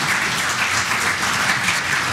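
Audience members at a chemistry lecture session break into loud, dense applause, a thick, continuous roar of clapping close up that fills the brief moment without any speech.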